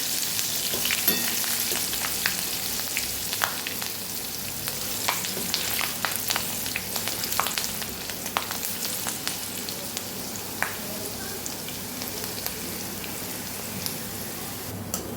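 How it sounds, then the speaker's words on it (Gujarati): Chillies fry in hot oil for a Gujarati chevdo snack, giving a steady, close, dense sizzle with crackling pops and spatter throughout, no voices over it. "હવે આપણે મરચાંને પણ સરસ તળી લઈશું, ક્રિસ્પી થાય ત્યાં સુધી."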